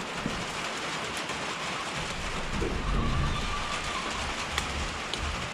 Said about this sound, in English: sorry for all the rain noise